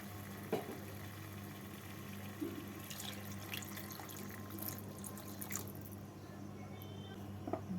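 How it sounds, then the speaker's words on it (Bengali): Warm water poured into potatoes cooking in a pan for sada alur dom, a soft, faint splashing and trickle with a few drips, heard alone at low level. "এর মধ্যে আমি দিয়ে দেবো এক কাপ মতো উষ্ণ গরম জল"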